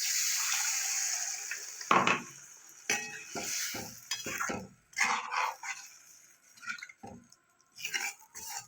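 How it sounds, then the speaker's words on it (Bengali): Spice-paste water poured into frying masala for an okra and prawn curry: an initial loud hissing sizzle that fades, then close clinks of a spoon against the pan and bubbling, sputtering bursts as it is stirred. "এবার আমি মশলার যে পেস্ট করেছিলাম সেই জলটা আমি দিয়ে দেবো"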